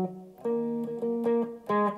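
Lead guitar plays a part of a song: a short phrase of sustained, sliding notes over roughly two seconds, close and fairly quiet, with no voice.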